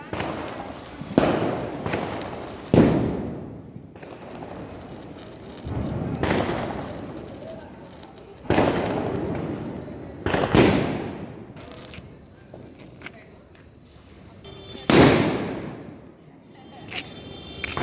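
Firecrackers set off at an outdoor Deepavali celebration, a string of loud, sharp bangs at irregular intervals, each trailing into a crackling decay, with more distant pops and faint background activity between blasts.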